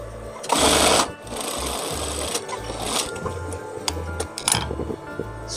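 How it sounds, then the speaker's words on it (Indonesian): Sewing machine stitching the side seam of a fabric cuff, a steady close mechanical whir running in short bursts with brief pauses and light ticking between runs. "Lalu kita jahit di bagian sampingnya."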